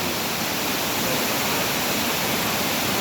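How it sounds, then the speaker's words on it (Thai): Phiang Din waterfall in Loei province, Thailand, pours with a constant, dense rushing roar, steady and unbroken throughout. "นี่คือน้ำตก"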